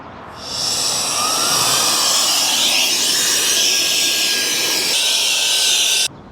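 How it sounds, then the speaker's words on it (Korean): A handheld vacuum cleaning the floor of a Tesla Model Y whirs steadily at close range with a loud high-pitched hiss and airflow roar, then cuts off abruptly near the end. "청소기로 한번 바닥 더러워진 거 좀 청소를 해야"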